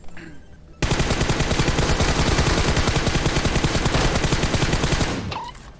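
Rapid sustained automatic gunfire in PUBG Mobile aimed at a car, a dense loud burst of evenly spaced shots lasting several seconds before stopping abruptly.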